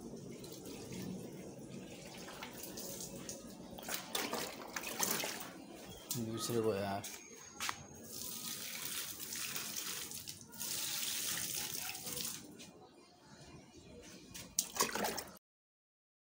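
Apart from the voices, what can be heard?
filling a bowl with tap water to water plants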